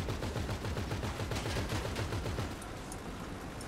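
Rapid automatic gunfire in the video game GTA V, a dense stuttering burst of shots for about two and a half seconds, then a steadier noisy wash, loud and without voices.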